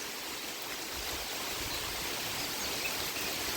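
Heavy rain falls in a steady, dense hiss at a riverside ghat, continuous and fairly faint, with no voices.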